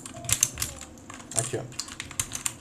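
A mechanical keyboard with brown switches being handled gives scattered clicks and plastic clatter at close range, while someone talks in Portuguese over it.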